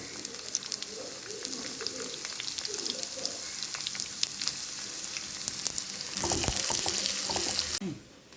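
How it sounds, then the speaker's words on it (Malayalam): Curry leaves and a few shallots crackle and sizzle in hot oil for a Kerala tempering, a steady frying hiss with scattered pops and stirring clinks, swelling to a louder burst of sizzling near the end before cutting off. "ഒരല്പം കറിവേപ്പിലയും ഒരു 2-3-4 ഉള്ളിയും കൂടി ഇട്ട് നമുക്ക് നന്നായിട്ടൊന്ന് മൂപ്പിച്ചെടുത്തിട്ട്"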